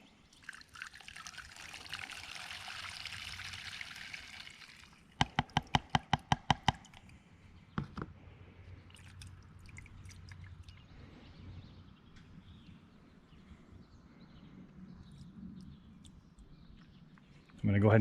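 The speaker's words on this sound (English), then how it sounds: "dump 8 ounces of gasoline through the funnel" Gasoline pours through a funnel in a steady trickling stream for several seconds, followed by a quick series of sharp knocks, then quiet handling sounds.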